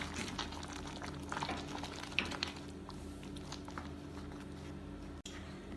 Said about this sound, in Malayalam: ഇപ്പോൾ ഇത് നല്ലോണം തിളച്ചിട്ടുണ്ട്.